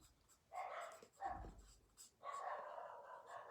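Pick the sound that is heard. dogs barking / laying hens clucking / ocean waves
dogs barking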